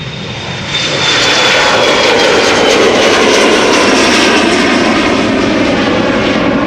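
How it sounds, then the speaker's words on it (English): A KLM Embraer 175 jet departing Amsterdam Schiphol, its engine roar swelling after the first second into a loud, sustained, close broadband rumble with a faint high whine, no voices. "KLM Flight 1233 on its way to Göteborg. Embraer 175."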